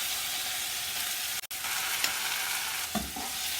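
Onion and tomato fry in a pan for a spicy Dakous tomato sauce, giving a continuous hissing sizzle with a brief cut near the middle and a few stirring clanks toward the end.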